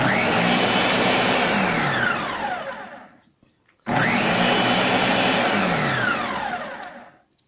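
A blender whirs loudly as it makes a smoothie, running in two long bursts. Each burst winds down, with a short silent gap between them.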